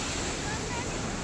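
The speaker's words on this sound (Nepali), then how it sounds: "झरना कसरी बगिरहेछ।" Devi's Falls in Pokhara roars as a continuous, loud wash of rushing water with wind buffeting the microphone and no break in the noise.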